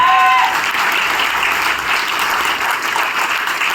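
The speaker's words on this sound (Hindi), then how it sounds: "और एक बार जोरदार तालियां होनी चाहिए फैज भैया के लिए" Sustained, loud applause from a seated audience at a motivational talk, steady clapping that holds evenly from start to finish with no speech over it.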